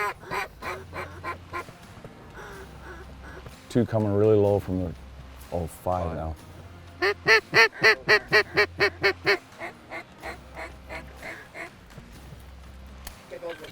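Ducks quack and call in bursts as flocks drop into an oat field at dawn during a waterfowl hunt, with a run of rapid repeated quacks midway, while hunters talk quietly nearby.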